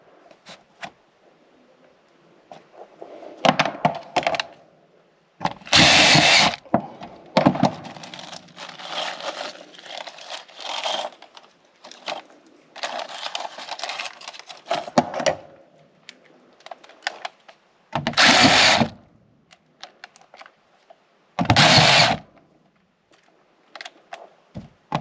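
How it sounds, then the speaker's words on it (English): Self-tapping screws driven in short bursts to mount an air purifier onto HVAC ductwork, several loud whirring runs of a power driver separated by quieter handling clatter and clicks, close by. "So we'll get some self-tapping screws and just mount this on here."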